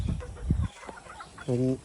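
Chickens being bathed in a backyard cluck nearby in short bursts, with a few sharper squawks mixed in and one sustained harmonic call toward the end.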